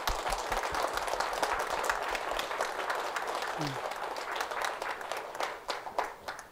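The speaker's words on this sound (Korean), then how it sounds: "전임 주지 살림산도 고시학로 스님께 박수 한번 우리 다 칩시다" An assembly applauds the former abbot during a memorial service and abbot inauguration ceremony at Gilsangsa temple: dense, steady clapping from many hands that thins toward the end, with a brief voice partway through.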